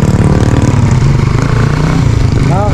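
Honda Raider 150 Fi motorcycle fitted with an aftermarket exhaust pipe, idling close up with a loud, steady, rapid low-pitched exhaust putter, slightly uneven in rhythm.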